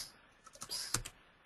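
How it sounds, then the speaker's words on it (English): Keystrokes on a computer keyboard, a short burst of several quick clicks with a louder tap near the end, fairly close and alone. "Having some typing problems."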